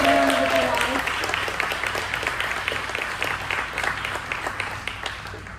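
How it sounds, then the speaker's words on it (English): An audience at a policy event claps, the applause loud at first and then slowly thinning into looser, scattered claps, with a voice briefly audible at the start. "Let's give them a big round of applause."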